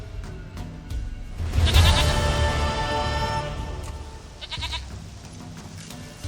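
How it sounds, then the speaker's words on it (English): A goat in the video game The Witcher 3: Wild Hunt gives two loud, close, wavering bleats, one early and a shorter one a few seconds later, over quiet game ambience. "Goat of mine. Dearest, sweetest goat."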